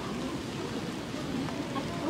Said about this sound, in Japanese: 雨が降っているのでちょっと傘をさして